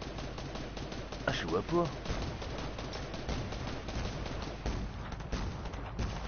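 Bursts of video game gunfire crackle over a busy, dense game soundscape while French-speaking players talk over it, with a sharper volley standing out near the start.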